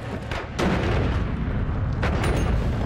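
A loud, close explosion booms in the Noita video game, a deep rumbling blast that swells and holds in a dense roar with a second surge, no talk over it.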